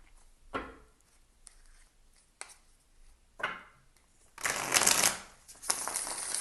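Tarot cards being shuffled up close, several short riffling bursts followed by a longer, louder flurry of card flicks near the end.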